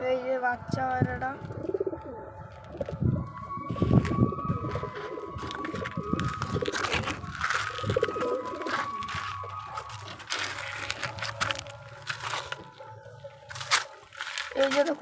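Pigeons, including a young bird and a white Madras pigeon, coo softly and intermittently at close range alongside wing flutters and scratchy rustling, with a person speaking over them.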